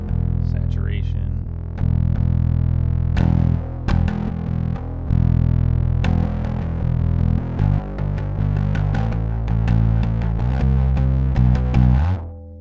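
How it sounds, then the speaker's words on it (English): A bass guitar runs through a Wren and Cuff Pickle Pie fuzz pedal with the blend turned low, giving loud, sustained, gritty notes and chords that are plucked one after another in a steady, unbroken stretch of playing. "It's hard to call them low-gain tones, actually, just because there is so much fuzz, it's just really low in the mix"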